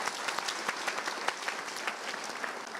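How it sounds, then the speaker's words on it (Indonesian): A crowd claps steadily, dense applause with sharp individual claps sounding close and lasting the whole stretch. "Kita berikan tepuk tangan."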